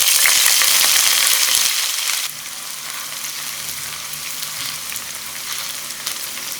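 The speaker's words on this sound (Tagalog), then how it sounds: "Pirituhin na natin yung puting sibuyas." White onion frying in a pan, a loud steady sizzle that drops to a quieter, even crackle partway through, with no talking.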